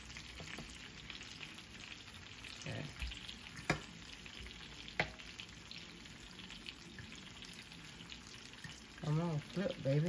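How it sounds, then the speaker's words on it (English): Chicken pieces frying in a pan for Jamaican brown stew chicken give a steady close sizzle, with a few sharp clicks from handling and louder bubbling and spattering near the end. "it's been frying for about 10 minutes on this side"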